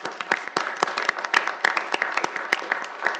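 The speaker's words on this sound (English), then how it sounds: "We'll give you a round of applause." A small group claps at a city council meeting, sparse and distinct, with individual hand claps standing out fairly close.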